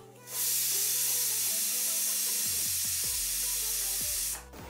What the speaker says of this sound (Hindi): तो आप देख सकते हैं कुकर की स्टीम बिल्कुल निकल चुकी है